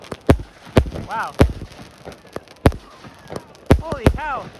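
Booming Victoria Day fireworks in a Toronto park burst in a rapid, uneven series of loud, close reports, each ringing off briefly, while spectators shout and cheer over the blasts.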